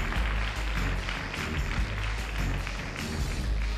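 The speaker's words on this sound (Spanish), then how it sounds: "Tenemos un fortísimo aplauso al gran Miguel!" Sustained audience applause at a live singer-songwriter show, a dense, steady wash of clapping that holds loud and even throughout without pauses.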